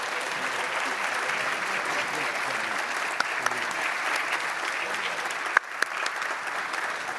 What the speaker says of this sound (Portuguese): Para o menino Carlos, uma salva de palmas.